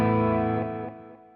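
Boosted, distorted electric guitar chord through a BOSS Katana amp, ringing out thick and saturated with delay and reverb, then slowly decaying over a second or so.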